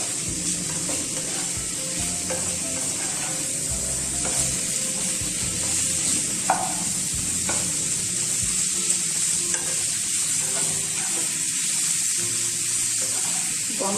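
Food fries lightly in a pan with salt just added, a steady close sizzle running throughout with scattered stirring scrapes and small pops.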